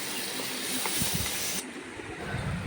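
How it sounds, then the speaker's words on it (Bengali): Fish frying in mustard oil, a steady close hiss and sizzle with a few low bumps from the pan, then the hiss drops a little and carries on. "সর্ষে তেল দিয়ে মাছগুলো ভেজে নিচ্ছি"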